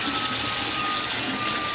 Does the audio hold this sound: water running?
yes